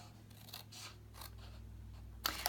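Scissors cutting designer series paper for a note card box, a soft, quiet snipping run close by, ending in a brief sharper crinkle.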